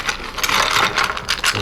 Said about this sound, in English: Next up, we're going to ice that up.